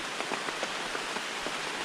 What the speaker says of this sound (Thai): ฝนตกนะครับผม ได้ยินเสียงฝนไหมครับ